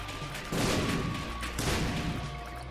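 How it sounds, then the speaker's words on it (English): Explosions in the video game The Binding of Isaac: a dense rumbling blast rises abruptly and a second burst follows near the end, both over a steady game-music tone, loud and continuous. "But there's no shortage of explosions here."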